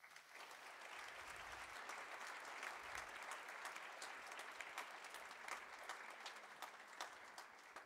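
Soft, distant applause from a concert audience for a university band and choir, a steady patter of clapping that carries on without pause.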